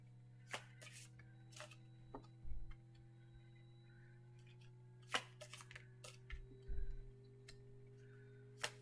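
Tarot cards are shuffled and drawn in a quiet room, with a few soft, scattered riffles and card snaps, faint and sparse over a steady low hum.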